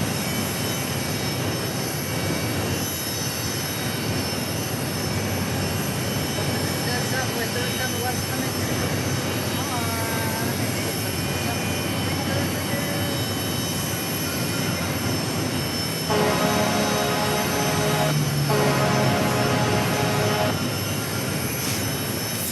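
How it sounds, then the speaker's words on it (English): A FedEx Boeing 767 freighter at Phoenix Sky Harbor airport gives a sustained loud jet roar with whining tones that swell toward the end, heard without talk. "767 freighter."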